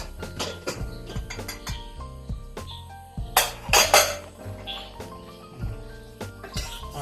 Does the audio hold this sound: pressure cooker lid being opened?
yes